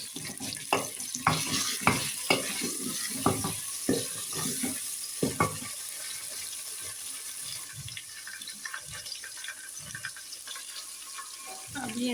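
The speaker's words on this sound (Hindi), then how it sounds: "ये चिकन डालते हैं, इसको थोड़ी देर के लिए फ्राई करते हैं।" Pieces of chicken sizzle quietly in a pan with fried onions, with soft scraping and stirring bumps early on and a faint steady hiss running underneath.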